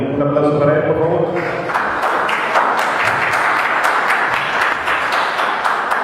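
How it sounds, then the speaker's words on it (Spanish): An audience at an academic gathering in Yucatán applauds a speaker being welcomed, with steady crowded clapping filling the room after a voice at the start. "Un aplauso para él, por favor."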